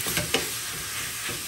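A pound of ground beef is stirred into sautéed ingredients in a pan over medium heat, giving a broad hiss of sizzling with a few soft scraping strokes near the start.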